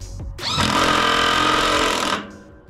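A POPOMAN cordless impact driver drives a screw into a trailer deck in one loud, rapid hammering burst of about two seconds, close up with no talk.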